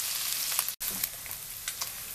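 Steady, close sizzling of bacon and sausage frying in a pan, a continuous crackle with faint pops and a brief dropout.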